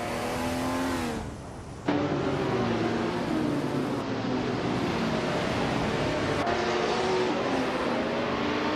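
Race cars roaring away at the start of a racing video game: loud, continuous engine drone with rising gear-shifted whines and a brief dip before the pack surges on.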